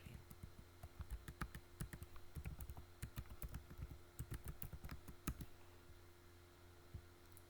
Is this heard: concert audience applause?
no